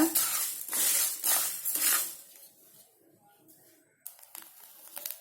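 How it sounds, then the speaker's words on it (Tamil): Sago pearls roasting dry in a pan, heard as a few bursts of rattling, scraping stirs with crisp clinks, then a quieter stretch before more light scraping resumes near the end. "அதில் இந்த ஜவ்வரிசியை போட்டு ஒரு 2 நிமிஷம் நல்லா வறுத்துக்கோங்க."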